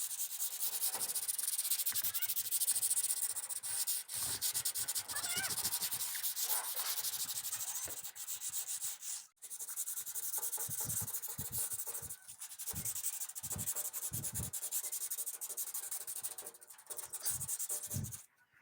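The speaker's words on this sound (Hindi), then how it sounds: "अभी हम सैंड पेपर की मदद से इसे थोड़ा सा और रगड़ेंगे" Sandpaper rubbed over the metal body of an air cooler after rust has been ground off, a steady dry scratchy rasp in repeated strokes, close and fairly loud, with brief pauses between passes.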